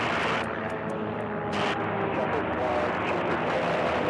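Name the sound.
racing biplane flying past at air race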